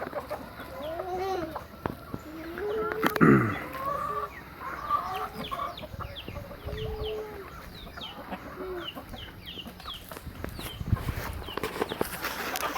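A flock of chickens on a Brazilian homestead farm clucks and murmurs continuously while being fed whole corn, with overlapping soft calls, one louder squawk early on and scattered pecking sounds nearby.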